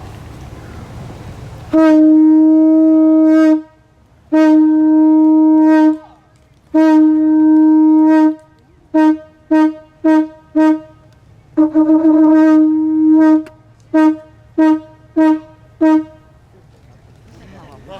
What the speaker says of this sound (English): Blow the shell?